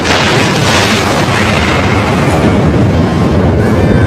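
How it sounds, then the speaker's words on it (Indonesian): The Chernobyl nuclear reactor core explodes in a loud, continuous roaring blast with deep rumble that fills the whole stretch without letting up. "inti reaktor telah meledak"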